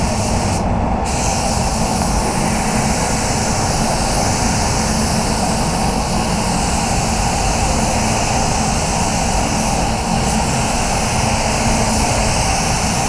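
An FLG5 spray gun set to full fan sprays direct gloss in a booth, a continuous loud, even hiss of air and paint that runs unbroken for the whole stretch.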